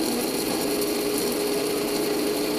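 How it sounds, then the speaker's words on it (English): Electric grinder whirring steadily as it grinds pieces of dried vanilla bean, a constant high buzzing motor sound lasting a few seconds without pause. "Then I'm going to grind them for a few seconds."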